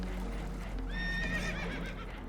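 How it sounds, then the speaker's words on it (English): Spooked horses neighing in Red Dead Redemption 2, aboard a damaged boat heading for rocks: a single high, wavering whinny rises clearly over a steady low rumble and faint hoof clatter. "Horses are spooked"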